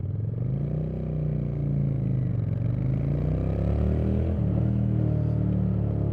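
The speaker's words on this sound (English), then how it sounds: "This thing's got a good sound for a stock exhaust too" A 2022 Honda VT750C Shadow Aero cruiser motorcycle on its stock exhaust, a steady deep low rumble that rises and falls slightly as the engine pulls along, loud and close, with no talking.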